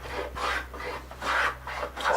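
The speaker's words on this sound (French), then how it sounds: "j'en profite pour passer un petit coup de rabot" A hand plane smooths rough-sawn timber in long, rasping strokes, about four close passes in a steady back-and-forth rhythm, loud and alone.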